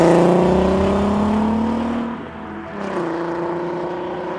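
A Volkswagen Golf R32's naturally aspirated V6 revs up under acceleration, a loud rising engine note heard from close by, briefly dipping at a gear change before pulling hard again.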